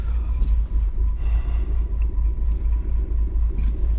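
A car with a rebuilt TH180 automatic transmission under way, a loud steady low engine rumble and drivetrain whir filling the cabin throughout, with no distinct clunk as it takes gear.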